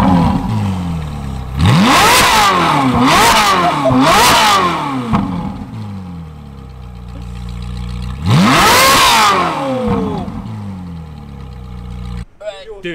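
A supercar engine in Hong Kong, revved hard several times: a quick triple burst of sharp rising and falling blips, a pause at idle, then one more long rev before it settles back.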